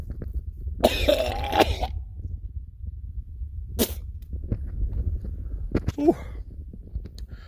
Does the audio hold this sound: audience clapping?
no